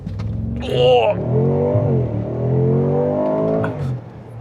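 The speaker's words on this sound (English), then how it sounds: "Also, we have launch control, race start." A 2025 Mercedes G63 AMG engine revs and builds under launch control, a loud close rising roar that holds steady through the clip, with a brief higher whine near the start.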